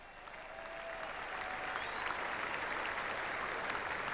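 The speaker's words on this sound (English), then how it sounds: "So give yourselves a good clap." A cricket crowd applauds at a post-match presentation, steady dense clapping that swells and holds for about four seconds, with no talk over it.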